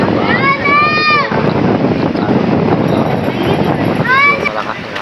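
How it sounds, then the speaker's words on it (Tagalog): Steady broadband wind roar buffeting the microphone throughout at Manila's Dolomite Beach in the afternoon, with voices talking over it near the start and end. "malakas ng hangin."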